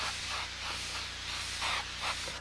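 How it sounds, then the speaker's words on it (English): Airbrush spraying paint heavily during portrait painting, a steady breathy hiss with soft pulses as the spray swells and eases, close and continuous with no talking. "I'm spraying fairly heavy just to bring out the light."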